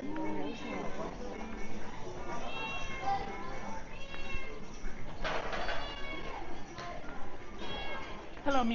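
A cat meows a few times at a busy Chinese street market in Jianshui, the calls close and moderate in volume amid steady crowd chatter and people talking nearby.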